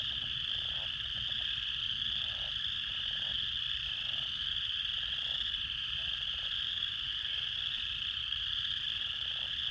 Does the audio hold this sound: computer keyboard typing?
no